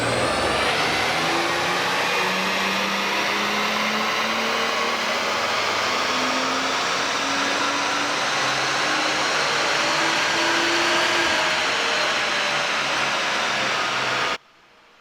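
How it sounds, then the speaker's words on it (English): A BMW 335i strains at full throttle on a chassis dyno, a loud steady roar with a rising engine tone climbing across the pull, then cutting off abruptly at the end. "let's go see what the car puts down on their dyno"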